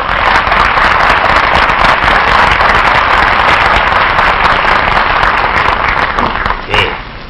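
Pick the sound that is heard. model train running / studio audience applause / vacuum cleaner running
studio audience applause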